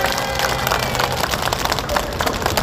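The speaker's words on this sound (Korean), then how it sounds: "다시 한 번 더 감사의 박수를 부탁드리겠습니다" Thank-you applause from an audience at a Korean podcast and press event for the lawyer and the party official who led it, dense loud clapping sustained throughout with crowd noise mixed in.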